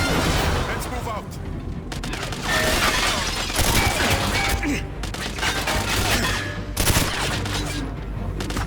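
In GoldenEye 007: Reloaded, dense gunfire rattles almost without a break, loud and close, as automatic bursts and single shots overlap in a chaotic firefight.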